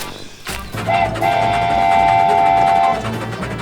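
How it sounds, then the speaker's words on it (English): Cartoon train chugging and puffing along, with a steady whistle tone sounding for about two seconds over a continuous rumbling, clattering rail motion. "The dumpty train chugged and puffed"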